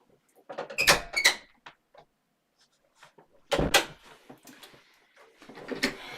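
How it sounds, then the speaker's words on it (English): Indoor doors opening and closing as cats come and go, a few separate knocks and latch clunks with rustling between, close and fairly quiet in a still room. "It's just cats coming in and out if you hear me opening and closing doors."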